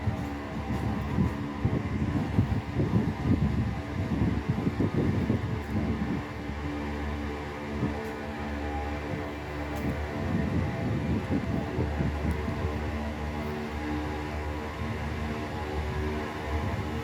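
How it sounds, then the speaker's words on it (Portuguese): An empty freight train rushes past quickly at a rail crossing in Açailândia, Brazil, a loud continuous rumble and clatter of wagons on the track, steady throughout with no talk. "Vixe, mas esse trem vazio é rápido."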